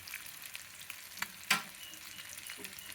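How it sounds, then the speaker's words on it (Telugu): Okra frying in a pan over a medium flame, a soft steady sizzle with scattered crackles and one sharper stir or clatter midway, quiet and close with no talking. "బాగా మీడియం ఫ్లేమ్లో పెట్టి, లేకపోతే సిమ్లో ఒక 10 నిమిషాలు వేయించుకుంటే సరిపోతుందండి"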